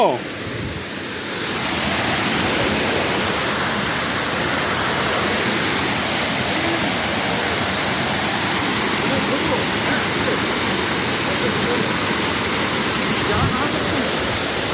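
Rushing water at Duduma waterfall in Koraput, a loud, constant roar of broadband noise that holds steady throughout.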